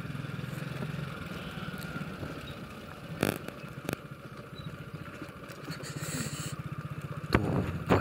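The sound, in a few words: tractor approaching from behind on a rough road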